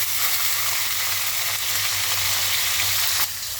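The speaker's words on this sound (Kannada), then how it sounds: "ಅವರೆಕಾಳು ಮತ್ತು ಕಡಲೆ ಬೀಜ ಎರಡೂ ಇದರಲ್ಲಿ ತುಪ್ಪದಲ್ಲಿ ಫಸ್ಟು ಇದು ಬೇಯಿಸ್ಕೊತಾ ಇದ್ದೀನಿ" Field beans and peanuts fry in ghee for upma-style avarekalu chitranna, giving a steady, loud, close sizzle that runs unbroken with a slight dip near the end.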